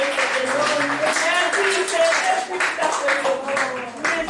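Congregation clapping and acclaiming during a French-language church service, steady rhythmic claps under voices and sustained singing or shouting throughout.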